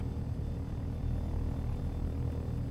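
A model helicopter engine throttling up, a steady droning buzz with a low rumbling hum that holds fairly even and gradually strengthens, moderately loud and alone.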